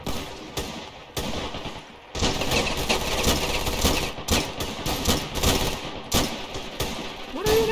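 Dense gunfire rattles through a Ravenfield battle on the snowy Hoth map, with rapid automatic bursts and single shots overlapping near and loud, alongside engine rumble.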